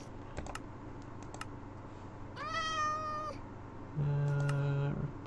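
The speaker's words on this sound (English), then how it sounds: "Just like ambient critters. Cats and stuff." A cat meows as an ambient critter in a video game map: a drawn-out, rising-and-falling meow in the middle, then a second harsher call near the end, over scattered keyboard clicks.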